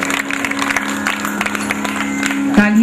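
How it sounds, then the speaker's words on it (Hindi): Applause from a festival crowd after a Bharatanatyam dance performance at the Kota Dussehra fair, a steady dense patter of clapping sustained under a held musical tone, with a louder burst near the end. "तालियां मुझे लगता है इससे भी ज्यादा बजनी चाहिए"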